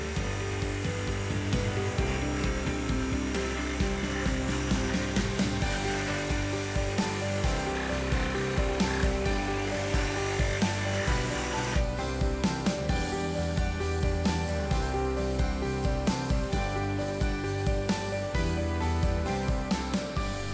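A jigsaw cuts through a bathtub wall in a steady, buzzing reciprocating drone that carries on without pause, close and fairly loud, with no talking.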